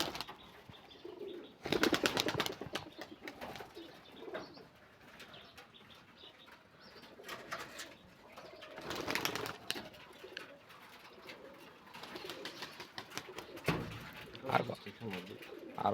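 Pigeons coo and flap their wings at close range in a loft, including a female Pakistani blue muski and Rajshahi giribaz birds, with bursts of wing flapping over a steady murmur of calls while someone talks over them.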